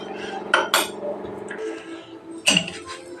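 A vada kadai pan set down on a stove with a few loud metallic clanks and clinks, two close together and then a louder one after a short pause, with no voices.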